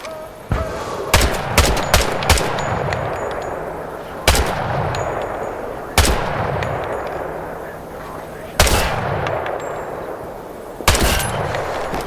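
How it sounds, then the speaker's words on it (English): Gunfire hits targets in the video game Hell Let Loose Vietnam: sharp, loud rifle shots spaced a few seconds apart, each followed by a booming echoing tail, with a short rapid cluster near the start and a voice speaking between them. "Shoot the targets ahead, aiming for the helmet to guarantee an instant kill."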